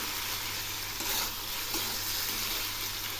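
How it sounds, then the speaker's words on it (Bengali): Spice paste mixed with ground onion fries steadily in hot oil, a continuous close sizzle with soft scraping, no talking. "এখন আমি এই মশলাগুলো খুব ভালো করে কষিয়ে নেব।"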